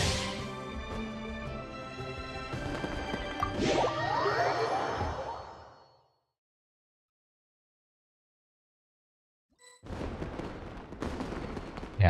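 Explosions in a Genshin Impact Lunar New Year event, heard as dense booming bursts with whooshes over game music, stopping into silence and then returning as noisy blasts.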